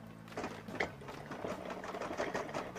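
Sewing machine running steadily through a suit sleeve, stitching a straight seam to set pleats, with a continuous close whirring hum and rhythmic needle ticking throughout.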